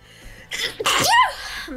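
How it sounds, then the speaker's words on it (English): A single loud human sneeze, close up, with a short intake of breath before the sharp burst, a brief tail after it, and no other talking. "Just sneeze."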